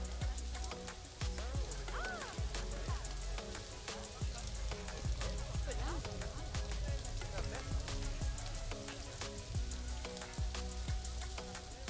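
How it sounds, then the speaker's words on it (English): Rain falls on a wet, green canyon habitat in the Planet Zoo video game, a faint, steady patter of drops and splashes continuing evenly throughout without talk. "Here comes the rain."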